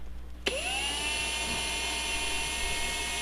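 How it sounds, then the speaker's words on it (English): A Dremel rotary tool switches on and spins up to a steady high-pitched whine while grinding down screws, holding a constant pitch over a low background hum, with no talk. "a couple of these are going to need to have some Dremel work done to them and be ground down"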